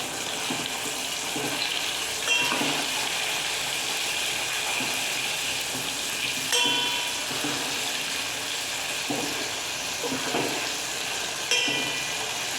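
Food fries in a pan for a fried dish, giving a continuous hissing sizzle at close range, broken by a few short clinks and stirring accents.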